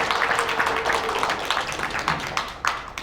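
Audience at a special Christian theology lecture breaks into scattered applause, with moderate, uneven claps that rise and fall over a few seconds in a hall.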